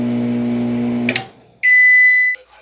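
A microwave oven hums steadily while heating frozen pizza, then the hum cuts out with a click and a long, loud electronic beep follows, close by and alone.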